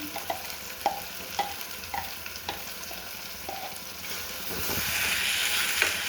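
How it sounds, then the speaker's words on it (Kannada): Ground masala fries in oil for a hyacinth bean gojju, sizzling quietly while a spoon stirs it. Soft scraping strokes tap out a loose rhythm, and the hiss rises toward the end, close and without talk. "ಸ್ವಲ್ಪ ಎಣ್ಣೆ ಒಳಗೆ ಫ್ರೈ ಆಗಲಿ ಇದು ಮಸಾಲ"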